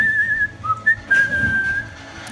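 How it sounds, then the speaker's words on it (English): Person whistling through pursed lips, a clear single tune of short wavering notes sliding between pitches, close and alone with a little background hiss. "today, we're going to be learning how to whistle"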